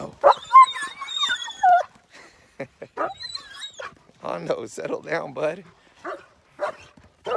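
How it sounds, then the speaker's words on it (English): Two pet dogs named Helly and Hondo on a farm with horses and sheep give short barks, yips and whimpers, close and excited, mixed in with a voice calming them. "Here come my dogs."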